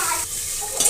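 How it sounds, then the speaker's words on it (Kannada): Ginger garlic paste frying with cloves, peppercorns, green chili, onion and kasuri methi in a pan for hotel-style khichdi, a steady close sizzle with a brief stirring scrape near the end. "ಸ್ವಲ್ಪ ಚೆನ್ನಾಗಿ ಫ್ರೈ ಮಾಡಿ"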